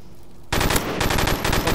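Gunfire in Call of Duty 4 on the Mirage map: a sudden, loud, close burst of rapid automatic fire lasting just over a second.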